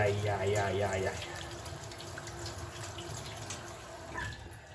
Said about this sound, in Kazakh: помидорымызды жақсылап жуып аламыз